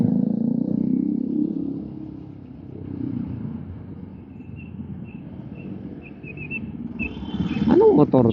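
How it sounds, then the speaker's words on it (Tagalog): Suzuki Gixxer motorcycle engine rumbling close by, a steady low drone that swells at the start and again near the end as it revs, with a faint high whine and a brief clatter at the close. "Anong motor to? Gixxer?"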